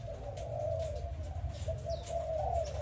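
Malaysian spotted doves give a steady run of low, rolling coos close by, over constant background hum, with faint bird chirps now and then.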